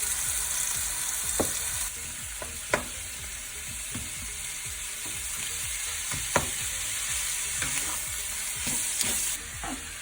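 Minced chicken stir-fries in a pan for Thai basil chicken, a steady close sizzle broken by sharp spatula scrapes and knocks every second or two as the meat is broken up.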